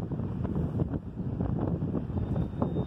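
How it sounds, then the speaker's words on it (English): Wind blows outdoors on a sunny day in Barnsley, buffeting the microphone with continuous low rumbling gusts that rise and fall without let-up. "It's quite windy, lovely sunny day, but it's quite windy here in Barnsley."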